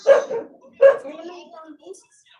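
Two sharp dog barks close by, a short pause between them, with faint voices murmuring afterward.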